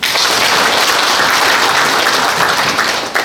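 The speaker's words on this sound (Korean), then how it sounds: "우리 여기 한국 지사장님 두 분을 위해서 박수 한번." An audience at a Korea–Vietnam international forum gives a loud, sustained round of applause, dense clapping from many hands close and continuous, ending with a sharp last clap.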